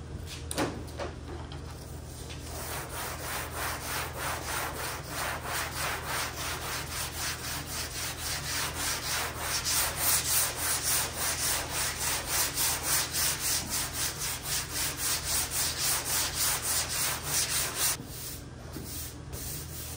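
A sanding block is worked back and forth over primer on a C10 pickup hood, giving a steady rhythmic scraping of close, even strokes that runs nearly the whole time, pausing briefly near the end.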